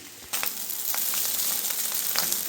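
Chicken noodles stir-fry in a pan, a bright continuous sizzle that swells suddenly and keeps hissing with small crackles as they are mixed.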